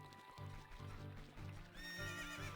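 The horse Epona neighs loudly in The Legend of Zelda: Ocarina of Time, a long shrill whinny with hoofbeats clopping underneath.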